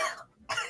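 A single short cough made during a tabletop roleplaying game session, two quick bursts separated by a brief pause, close and fairly loud with no other sound around it.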